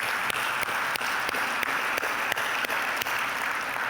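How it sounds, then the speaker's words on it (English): Steady, sustained crowd applause in a large hall at the ICMA 2025 conference during President Mike Land's address, a continuous wash of many hands with occasional sharper individual claps standing out. "now it's worth the clap"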